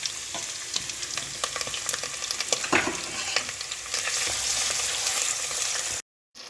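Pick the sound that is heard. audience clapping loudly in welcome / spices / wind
spices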